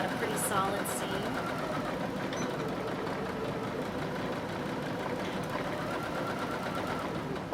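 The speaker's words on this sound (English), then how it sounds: "I'll go a few stitches, and then I'm going to back stitch because I want to make sure that I've got a pretty solid seam." A sewing machine stitches a seam on a quilted bowl-shaped pot holder, running in a steady continuous whir with a brief reverse for back stitching, close by and under occasional talk.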